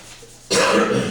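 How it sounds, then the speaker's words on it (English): One sudden, loud, harsh cough bursts out close up after quiet and holds for about half a second. "I'm really sorry about the cough."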